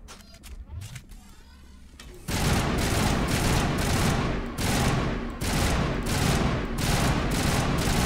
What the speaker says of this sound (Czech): Střílej takhle trojdávkou.